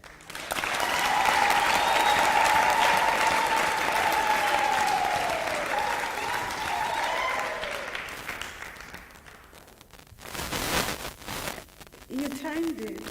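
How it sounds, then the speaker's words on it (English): A large audience applauds at a university spring graduation ceremony, with loud, sustained clapping and ululating cheers that fade after several seconds, followed by a brief microphone thump and a voice speaking. "really request you to give them a wondrous round of applause"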